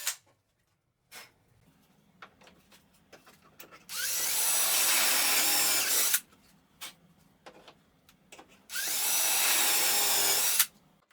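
A power drill bores dowel holes through a wooden bookcase side held in a doweling jig: two loud, sustained runs of about two seconds each, separated by quiet pauses and faint handling knocks.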